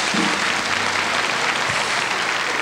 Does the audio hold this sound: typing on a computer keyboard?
no